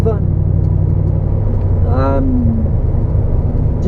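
Steady low engine and road rumble inside a car driving on the road, with a brief rising whistle-like tone partway through.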